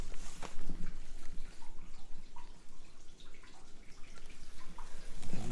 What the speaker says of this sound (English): I can hear water dripping.